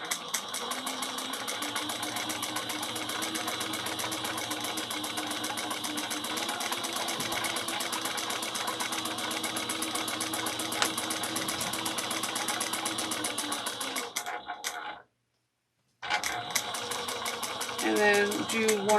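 A sewing machine stitching a handbag runs in a continuous mechanical whir with fast rhythmic needle ticking, pausing briefly near the end before starting again.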